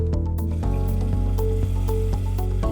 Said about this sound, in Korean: 그리고 미리 준비한 닭육수를 넣어줄게요.